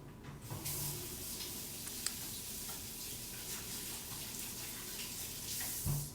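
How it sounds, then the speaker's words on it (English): Tap water runs steadily in a home kitchen while hands are washed during cooking, a continuous hissing spray with a few small clinks, close and alone with no talk. "I'm going to wash my hands real quick."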